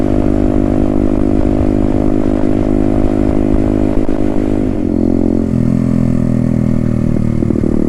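A Herald Maverick 125cc motorcycle ridden along, its engine droning loud and steady with a slight drop in tone near the end, close and constant, with no voices.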